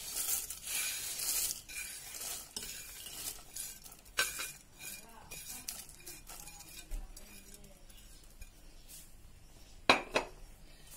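A spoon stirs a thick batter for kalthappam (Pesaha appam) after fried coconut, onion and curry leaves are added, giving close, uneven scraping and clinking against the bowl, with a sharper clatter near the end.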